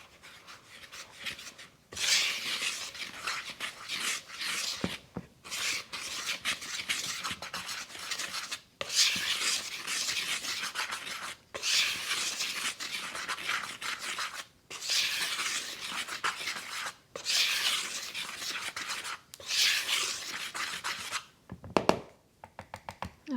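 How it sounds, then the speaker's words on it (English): Dry ingredients for coffee cake muffins being whisked in a bowl, a close, soft scratchy rustling in repeated bursts of several seconds separated by short pauses, quiet and intimate with no speech. "So I'm just going to give this a nice mix really quick."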